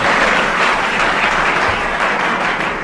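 A studio audience at a 1990s radio comedy panel game applauds loudly and evenly throughout, a dense wash of clapping with no voices on top.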